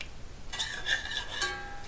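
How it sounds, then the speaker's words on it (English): Split Bengal gram being stirred while sautéing in a pan, a short burst of scraping strokes with faint metallic ringing after a quiet start, near and without talk. "I'm just giving a quick stir"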